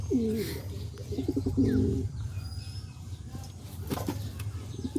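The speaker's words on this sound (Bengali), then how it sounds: "অনেক সুন্দর কবুতর" Black Lahori cross-breed pigeons coo in a series of soft, throaty calls, close by over a steady low background rumble, with a few chirps and faint rustling later on.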